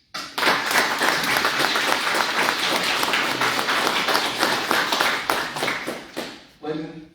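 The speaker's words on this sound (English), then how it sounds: "Please join me in a round of applause for these outstanding sailors." Sustained applause from a crowd at a surgical tech class graduation ceremony, dense steady clapping for about six seconds, briefly fading before a short final burst.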